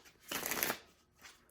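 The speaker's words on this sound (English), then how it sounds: "I'm shuffling these deck of cards" A Chakra Wisdom Oracle card deck being shuffled, one close papery riffle lasting about half a second, then a softer brief rustle, with no talking.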